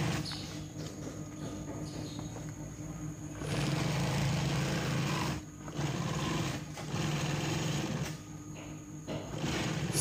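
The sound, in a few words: sewing machine stitching a rickshaw hood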